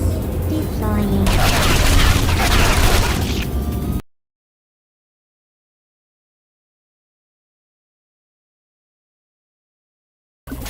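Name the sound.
turret firing in the video game Portal 2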